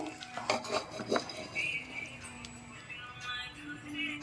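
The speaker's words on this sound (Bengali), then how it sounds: "এক টেবিল চামচ ঘি দিয়ে রেখেছিলাম আরও লাস্টে এক টেবিল চামচ ঘি দিয়ে মিশিয়ে নিচ্ছি" Spoon stirring ghee through tomato rice in a metal pot, with several quick scraping clinks near the start, then softer movement and quiet background noise.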